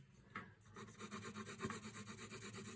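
A pencil shades a dark area on paper in quick back-and-forth strokes, a soft, steady, rhythmic scratching up close with no talking.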